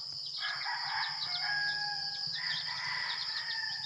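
Chickens cluck and a rooster crows repeatedly at a moderate distance on a farm, over a steady outdoor background hum, with no talking.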